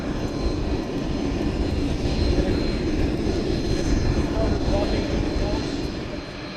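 A vintage piston aircraft engine on a B-25 or Ford Tri-Motor runs at a steady, loud, close rumble throughout, with voices audible beneath the drone.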